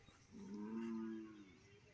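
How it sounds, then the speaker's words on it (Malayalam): A single low moo from large bulls at a buffalo cattle market rises and then trails off, moderately near, with faint background ambience. "വലിയ കാളകൾ തന്നെയാണ് ഈ ഭാഗത്ത് നിൽക്കുന്നത്"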